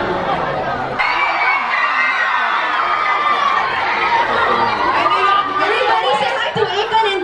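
A large crowd gathered at a Deekosh meet-up fills the space with dense, continuous chatter, overlapping voices and occasional shouts and laughter close by.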